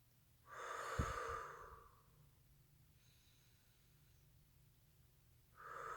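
Slow deep breathing in a quiet room: one long audible inhale with a brief soft snort at its start, a faint exhale, then another breath beginning, close and soft with no talking.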